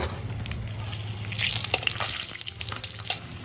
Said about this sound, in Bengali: এবার আলুটা লবণের সাথে খুব ভালো করে ভেজে নেব